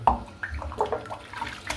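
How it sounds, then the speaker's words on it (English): Water splashes and trickles as soap is rinsed out of a shaving brush over a sink, with a few short irregular drips and sloshes, quiet and close, with no talking. "I'm just going to rinse this soap out now."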